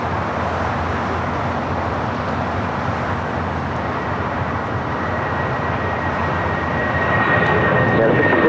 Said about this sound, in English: ITA will hold before crossing over as the 757 is now rolling down